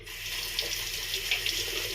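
A bathroom tap runs steadily into a sink for a face wash, a close, constant hiss of flowing water with no talking.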